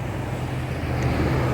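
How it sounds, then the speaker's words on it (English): Street traffic rolls past on a city road as a steady, fairly loud roar of engines and tyres with no clear breaks. "What you hear is the sound of traffic."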